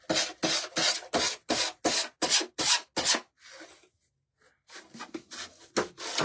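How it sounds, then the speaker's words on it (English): Sandpaper rasps back and forth along paper edges in a steady rhythm of about a dozen strokes, pauses briefly, then resumes with quicker scrubbing strokes. "I'm gonna do a little bit of sanding to try to get the"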